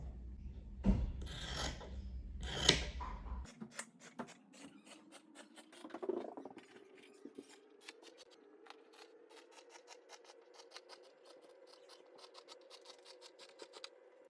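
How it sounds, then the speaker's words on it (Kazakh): Scissors snip through fabric while a skirt is cut out on the bias, a few crisp cuts at first, then a long run of soft rhythmic clicks and rasping, quiet and close, with no talking. "енді қиып шығамыз"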